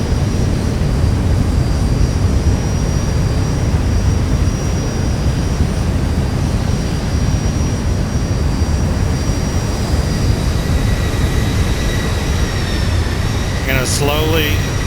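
Boeing 737 jet engines in the X-Plane flight simulator roar steadily and loudly as the airliner climbs after takeoff, a constant broadband rush with high whine tones throughout and a short electronic chirp near the end.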